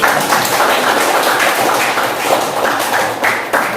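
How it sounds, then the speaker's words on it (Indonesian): A class of students applauds during a history teaching session, a dense, steady patter of many hands clapping at close range that holds for several seconds. "kasih tepuk tangan dulu"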